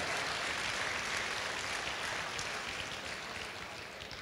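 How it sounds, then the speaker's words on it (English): Audience applause for the board of directors at a Salesian Boys and Girls Club breakfast: dense, steady clapping from a large crowd, filling the whole stretch and easing slightly toward the end. "How about a nice round of applause for the board of directors at this great club?"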